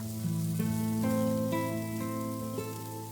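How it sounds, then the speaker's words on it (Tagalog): Onions and garlic stir-fry in a hot pan for eskabetse, sizzling steadily up close, with an underlying hum and a few light clinks. "Stir fry the onions and garlic."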